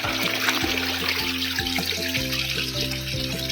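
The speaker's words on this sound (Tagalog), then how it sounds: "Meron nga, parang sapa." Water trickles steadily in a small, shallow creek-like stream running along the side of a path, a continuous close wash with a low tonal drone underneath.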